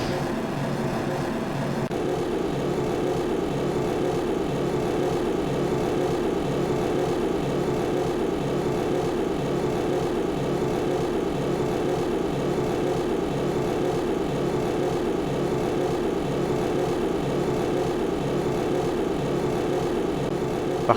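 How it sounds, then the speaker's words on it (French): Powerful rocket engine firing in Kerbal Space Program, a loud steady roaring rumble that holds unbroken for about twenty seconds after a brief quieter start. "Le moteur puissant, c'est bien ça."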